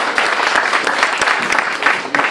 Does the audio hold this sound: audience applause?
yes